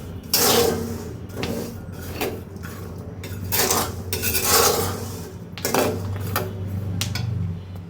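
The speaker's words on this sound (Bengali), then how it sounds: "একটু বাদাম ভেজে রাখবো আমি বালুতে বাদাম ভাজি খুব সাউন্ড হচ্ছে হয়তো" Peanuts roasting in sand in a pan, loud gritty scraping and rattling as the sand and nuts are stirred in repeated strokes, close up with no voices.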